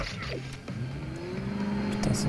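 Motorbike engine hum from the LEGO Ninjago Shadow of Ronin video game, a steady tonal drone that rises in pitch, with small game effects and blips scattered across the short stretch.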